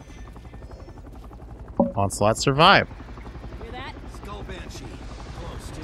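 A helicopter-like enemy aircraft in the Bulletstorm video game drones as a steady buzzing hum throughout, with someone talking loudly over it in the middle.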